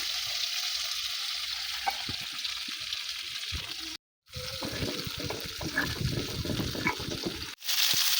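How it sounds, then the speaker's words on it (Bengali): Sliced okra sizzles and crackles as it fries in oil in a pan, a busy close-up hiss with stirring clatter, broken by two brief moments of silence. "ভেন্ডিগুলো ভাজা হয়ে গেছে"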